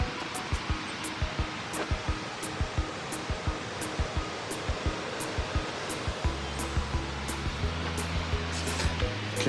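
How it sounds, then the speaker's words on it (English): Steady rushing river water on Stevens Trail fills the clip with constant broadband noise, alongside regular faint clicking ticks and a low hum entering near the end. "You can hear the water rushing."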